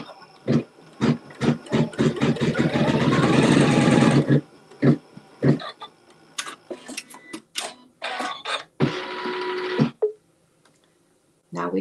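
A sewing machine stitches a quilt seam on a triangle piece in bursts of rapid mechanical ticking, with a long continuous run, isolated clicks and a second short run, heard close up.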